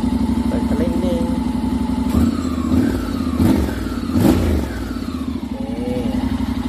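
A Honda X-ADV 750 scooter fitted with an Akrapovic slip-on exhaust idles with a deep steady burble, then gets several short sharp throttle blips that rise and fall, close and loud, while someone talks over it.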